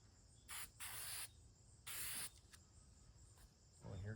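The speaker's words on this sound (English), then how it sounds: "Oh, here come the bugs." Insects buzz and chirp faintly outdoors at night, with several sharp, hissing bursts from a spray can during seat reupholstery work cutting in between the quiet background noise.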